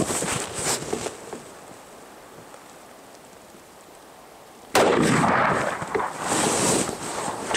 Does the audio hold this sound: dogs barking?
no